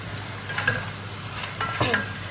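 Chicken curry gravy with spice powders stirred in, a few soft scraping strokes of a spoon against the pan over a low steady background hum.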